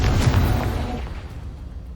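A Confringo explosion spell from a Harry Potter video game bursts with a loud, close, low boom that rumbles and fades over about two seconds.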